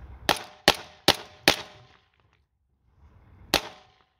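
Four sharp gunshots from a .38 Super pistol loaded with expanding hollow-point rounds crack outdoors in quick succession, roughly evenly spaced, then a pause and one more loud shot.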